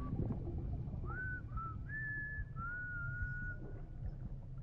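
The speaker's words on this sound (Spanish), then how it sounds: "Ahí está el chiflidito." A short melodic whistle in the video game Death Stranding, a few rising and held tones over about three seconds, sounding clearly above a steady low rumble of game ambience.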